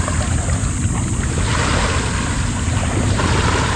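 Sea waves at a beach wash in with a loud, continuous surging roar, heavy wind buffeting the microphone close up, no voices.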